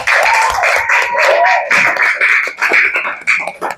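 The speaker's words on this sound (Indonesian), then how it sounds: "Kasih tepuk tangan untuk kelompok 1." Audience clapping for a student group after their presentation in a primary school coding and AI class, mixed with a busy classroom bustle and some voices; steady, fairly loud.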